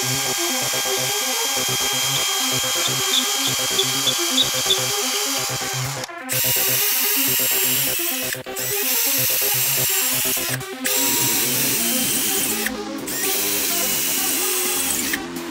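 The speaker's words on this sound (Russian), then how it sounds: "начинаю высверливать отверстие под дюбели" Power drill with an ordinary wood bit boring dowel holes into aerated concrete while a sectional garage door is being installed: a loud, continuous whining grind, broken by several short pauses between holes.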